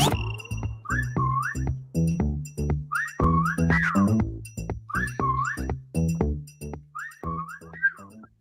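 Repeated whistled melodic phrases, a catchy rising and falling pattern played over a steady rhythmic backing in a sports radio show segment, loud and clear with no talking over it.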